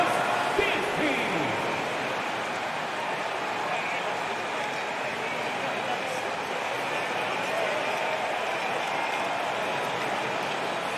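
Crowd applause and cheering from a basketball video game in an e-sports stream, a steady wash of noise filling the whole stretch, with a commentator talking over it.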